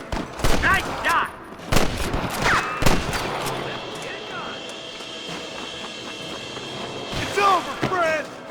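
Gunfire in the Red Dead Redemption western video game, with sharp shots cracking in quick bursts and scattered single shots among game sounds, while characters talk between them.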